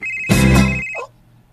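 An incoming-call ringtone sounds once from a cellphone, loud and close, a short burst of melodic chime that stops abruptly after under a second, with no talking over it.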